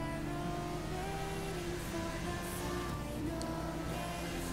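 A vehicle, likely a fast motorbike, accelerating through city traffic in the video game GTA V, its engine droning steadily and loudly throughout with a continuous revving hum and no talk over it.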